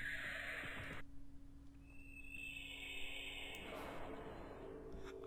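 A horse neighs in a Homestuck animation: a loud, bright whinny at the start fades into quieter, moody tones over a soft background.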